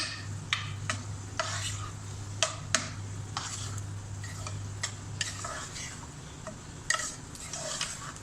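A spoon stirs fruit custard in a bowl, making repeated light clinks and scrapes at an irregular pace against a low steady hum, close and moderately loud.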